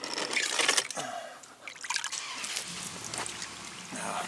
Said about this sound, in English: And here we go with the water.